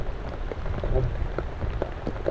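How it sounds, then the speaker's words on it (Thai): Steady rain patters on a surface, a continuous soft hiss with scattered drips and no voices. "ฝนตกจ้ะ"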